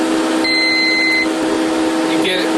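An M300 machine powering up gives a sustained electronic beep lasting nearly a second, then a brief second chirp, over the steady hum of its cooling fans.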